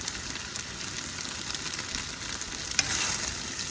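Seasoned spaghetti meatball mixture sizzling and frying in a pan, a steady close hiss with faint stirring scrapes and one small clink.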